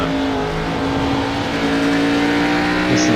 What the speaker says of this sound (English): listen to the car there, just struggling a little bit out of the corners